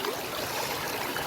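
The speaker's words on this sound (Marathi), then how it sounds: "वड्या पाण्याचे आहे." Water flows and trickles along a shallow stream in a steady, close babbling wash that stays continuous and fairly loud, with no voices.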